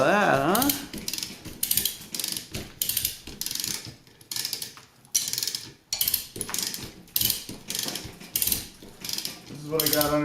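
A ratchet cranks a tractor part upward in repeated bursts of sharp metallic clicking, each stroke a quick run of ticks separated by short pauses, close and fairly loud, with brief talk at the start and end.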